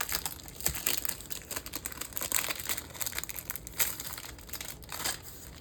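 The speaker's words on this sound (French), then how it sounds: "J'ai toujours de la misère à enlever le plastique. Ça colle." Crinkling, sticky transparent plastic wrapping being peeled and pulled off a diamond painting kit, a continuous close rustle dotted with sharper crackles, no voices.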